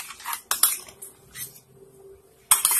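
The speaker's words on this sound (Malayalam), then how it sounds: "ഇത് നന്നായി ഒന്ന് മിക്സ് ചെയ്ത് കൊടുക്കാം." A spoon stirs carrot milk payasam in a pot, making close metallic scrapes and clinks against the pot in short bursts separated by quiet pauses, with no talking.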